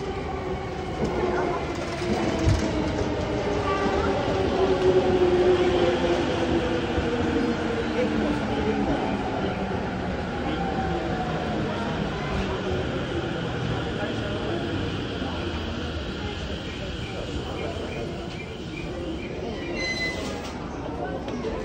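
A crowded commuter train runs on the Japanese line between Inage and Ikebukuro, heard from inside as a steady rumbling roar of wheels and motor with rising and falling whine tones and faint clicks, with no talking.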